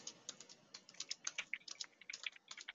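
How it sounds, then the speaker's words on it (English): Fingers type a username and password on a computer keyboard, a quick, uneven run of light key clicks close by and fairly quiet, with no voices. "typing in my username and my password there"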